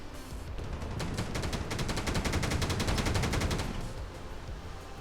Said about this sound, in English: It's got a massive gun on the side that's firing at us.